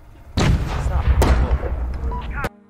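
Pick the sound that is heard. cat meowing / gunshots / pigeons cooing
gunshots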